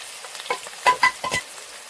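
Onions frying with green chillies, turmeric and salt for chicken curry, a close sizzle broken by several quick scraping stirs of a spoon in the pan.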